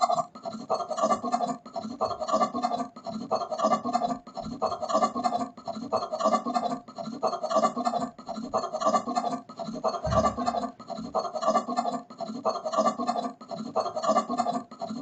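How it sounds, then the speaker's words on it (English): A steady, rhythmic scraping, like sawing, repeats about twice a second throughout, with no voices. "please ignore the background noises because of some construction is going over here"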